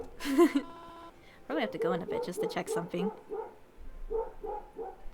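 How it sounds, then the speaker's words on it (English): A dog barks in short yipping bursts close by indoors, mixed in with a person talking. "Sorry if you could hear my dog barking."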